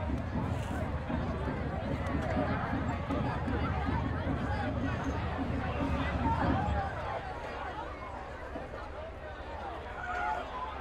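Crowd at a Friday night high school football game between Salina South and Newton, a dense murmur of chatter and footsteps from people leaving the stadium that thins noticeably partway through, with a commentator's voice over it.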